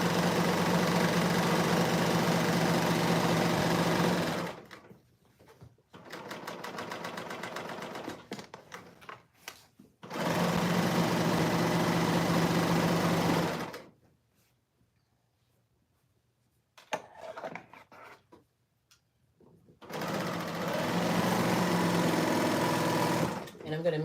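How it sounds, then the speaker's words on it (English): A serger overlocks a seam on a homemade jacket in three loud, steady bursts of a few seconds each, with short quiet gaps and light handling noise between them. "What I'm going to do is serge this part together"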